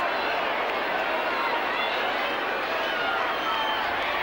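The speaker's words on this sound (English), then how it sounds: "There's the banners and the floggers, the North Melbourne cheer squad trying to put him off" Dense, steady roar of a large crowd at a 1987 North Melbourne versus Carlton Australian football match, with the North Melbourne cheer squad in the stands, a continuous distant wash of voices without clear peaks.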